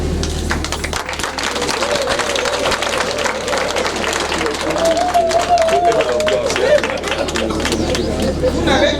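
Wedding guests clapping at a customary and civil wedding celebration while the couple is introduced, a broad steady applause mixed with crowd chatter and a voice over a sound system, with a low hum underneath.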